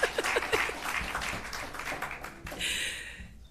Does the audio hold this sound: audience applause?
yes